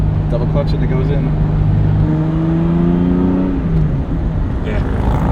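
A Ferrari Testarossa engine drones loudly from inside the moving car, a steady low rumble with its pitch rising through the revs, then a drop as the gear changes, while someone talks over it.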